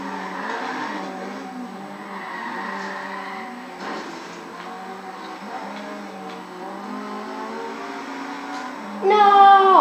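Engine drone and tire skidding from cars racing in the Forza Horizon 3 video game, a steady mid-loud game mix with a sharper squeal near the end.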